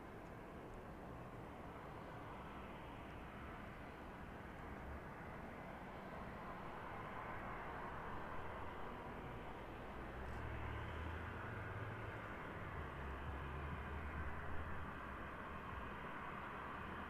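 An airliner landing past the runway threshold at East Midlands Airport in the evening: a faint, distant jet roar with steady broadband hiss, swelling slightly midway with a low rumble, heard alone without speech.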